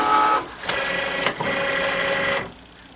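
A Cricut cutting machine runs close by with a whirring, mechanical motor sound and a brief clunk midway, starting and stopping within a few seconds.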